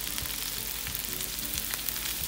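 Chopped vegetables for chow mein fry in a hot pan with a dense, steady sizzle and crackle, close and continuous with faint stirring, and no talking.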